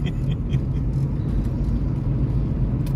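A camper van engine moving slowly, a steady low rumble and drone with no speech.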